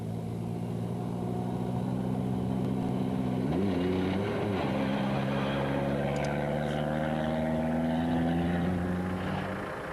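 A rally car engine drones loudly and unevenly in the 2002 Baja Aragon, its pitch wavering and dipping midway as if it struggles, with no voices.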